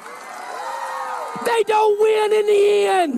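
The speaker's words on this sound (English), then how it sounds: "Listen to that crowd." A crowd whoops and yells in loud, excited bursts beneath a man's raised, emphatic speaking voice, the cheering swelling and breaking in waves.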